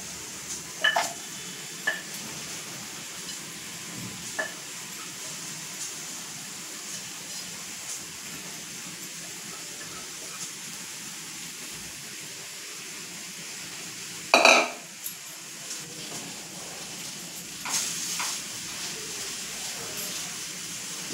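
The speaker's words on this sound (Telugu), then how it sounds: "ఉల్లిపాయ పచ్చివాసన పోయేంత వరకు వేగింది" Onions frying in a pan as they are stirred, a steady soft sizzle with occasional scraping and a sharp clank of the utensil against the pan partway through, close by.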